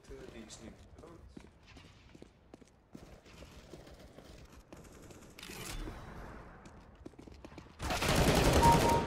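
Gunfire in Counter-Strike: Global Offensive: scattered sharp shots crack under ongoing talk, ending in a loud, dense burst of fire.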